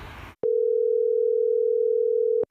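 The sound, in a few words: telephone dial tone while placing a phone call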